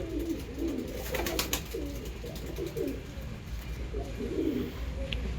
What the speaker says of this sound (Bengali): এটা একটা সালারা পাকিস্তানি নর